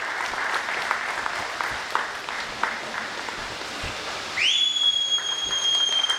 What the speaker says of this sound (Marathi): त्याचा टाळ्यांच्या गजरात सगळ्यांनी स्वागत करायचं